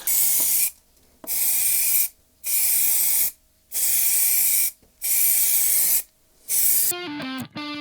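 Six loud hissing bursts from a spray can painting a car engine bay, each about a second long with brief silences between, close up, followed by a short tonal clatter.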